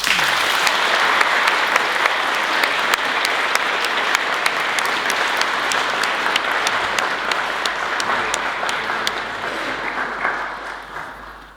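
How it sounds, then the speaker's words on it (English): Audience applause for Daniel O'Donnell receiving an honorary award: dense, steady clapping from a full crowd that holds strong for about ten seconds, then gradually thins and fades at the end. "I hope you'll join me in applause as we give him this award."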